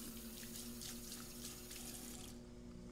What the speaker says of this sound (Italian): Mi lavo le mani?